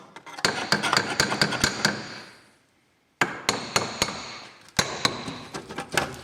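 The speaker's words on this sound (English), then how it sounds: "hitting on the back on the screws, as I did, that really makes the difference" Someone hammers on the back of the screws during a rear brake change on a 2004 Saab 9-3 1.8t. Rapid, close metallic blows come in three quick bursts separated by a short silence.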